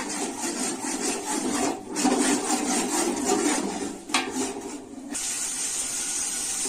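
A hundred grams of ginger sautéing in hot oil for chicken biryani, giving a steady broadband sizzle that stays loud and continuous with slight surges throughout.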